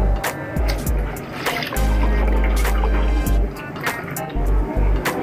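Coconut water poured into a pan of sugar syrup and cornflour over a low flame, a trickling liquid stream broken by bursts of low rumbling and clinks, fairly close.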